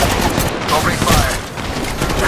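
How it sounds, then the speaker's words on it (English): Sustained automatic gunfire from the mobile battle royale game Apex Legends Mobile, a dense continuous burst of shots lasting a couple of seconds at steady loudness, with faint voices mixed in underneath. "Opening fire."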